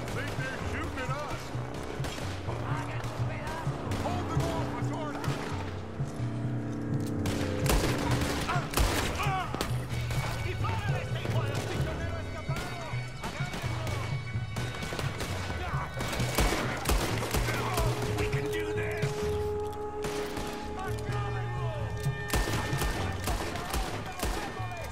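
Gunfire in Red Dead Redemption 2, a long running firefight of cracks and bursts over a steady game soundtrack, with voices talking over it.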